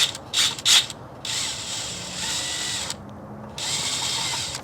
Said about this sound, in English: I got that loosened up enough that that baffle box will slide off of there